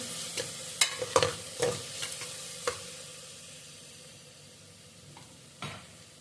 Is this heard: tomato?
yes